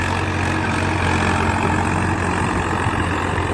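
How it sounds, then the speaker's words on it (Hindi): A Swaraj 855 tractor's diesel engine runs steadily at 1800 rpm in second gear, high range, pulling a harrow, a loud continuous low rumble with a constant drone and no pauses. "19 मॉडल ट्रैक्टर है, सेकंड के हाई में है, 1800 आरपीएम है।"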